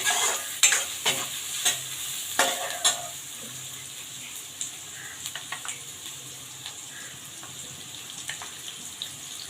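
Onions fry in a pan for mutton curry as garlic paste goes in. A hissing sizzle runs throughout, with clustered clatters and scrapes of stirring near the start, then quieter frying with occasional taps.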